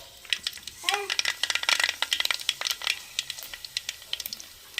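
Mustard seeds heated in hot oil in a pot on the stove for fish curry, popping and crackling in rapid, irregular bursts of sharp close snaps over a soft sizzle, the popping thinning out toward the end.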